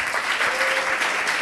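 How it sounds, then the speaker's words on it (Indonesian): A gathering at an Islamic lecture breaks into applause, brief and steady clapping from many hands at moderate level, a faint tonal note briefly running beneath it, no voices on top. "kasih tepuk tangan dulu"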